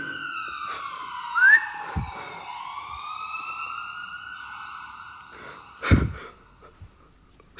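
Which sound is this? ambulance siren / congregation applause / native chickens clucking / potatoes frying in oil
ambulance siren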